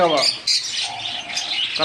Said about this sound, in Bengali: বন্ধুরা এই পাখিগুলো দোকানের পাখি